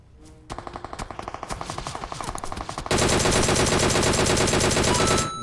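DP machine gun fire in PUBG, starting as rapid single shots that build into a dense, loud, continuous burst of automatic fire.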